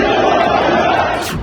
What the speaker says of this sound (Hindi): अल्लाह अकबर के नारे लगाते हाथों में फिलिस्तीन का झंडा थामे उन्मादी भीड़